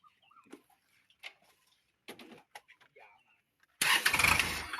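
A blue Kubota L5018 tractor fitted with a front lifting boom starts up: after quiet sparse speech, a loud, dense engine burst begins abruptly near the end and keeps running.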